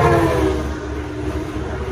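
An Amtrak Capital Corridor train led by an F-59PHI diesel locomotive rolls past the Alvarado Street grade crossing in San Leandro, loud and close, with a sustained horn-like tone over heavy rumble.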